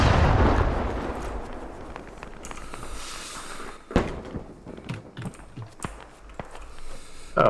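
Frag rounds fired from a BMP in the Squad video game burst downrange as a series of sharp booms and thuds over a rumbling battlefield background, with several distinct impacts spaced irregularly in the second half.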